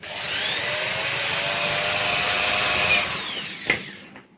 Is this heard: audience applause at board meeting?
no